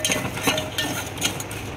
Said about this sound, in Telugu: పోసేసుకొని బాగా కలుపుకోవాలి